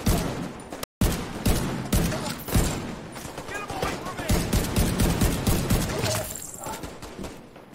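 Rapid gunfire rattles almost continuously in the game The Division 2, dense overlapping shots and thuds at close range, with a voice speaking intermittently over the shooting.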